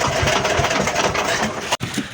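A fishing boat's engine runs steadily out on the water, a close, continuous mechanical drone with a brief drop near the end.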